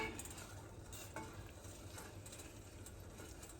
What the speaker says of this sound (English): we're going to stir this mixture